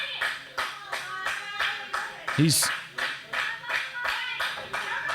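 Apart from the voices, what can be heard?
wrestling crowd clapping to cheer a wrestler on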